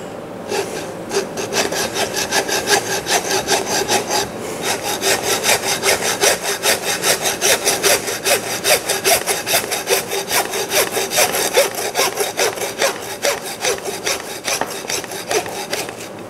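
A hand saw cuts through meat and bone at a shoulder joint near the shoulder blade, with steady rapid back-and-forth rasping strokes, loud and close, with a brief pause near the start.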